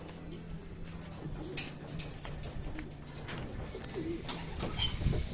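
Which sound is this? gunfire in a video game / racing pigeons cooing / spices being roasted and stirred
racing pigeons cooing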